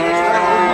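A single Sahiwal cow moos loud and close at a cattle market in Anwara, Chattogram, one sustained, throaty low call with no talking.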